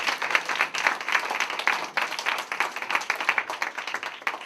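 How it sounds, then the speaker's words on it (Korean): A university student group at a church retreat claps in blessing: brisk, continuous clapping from a room of people, evenly rhythmic and fairly close, lasting the whole stretch with no talk over it. "축복의 박수 부탁합니다"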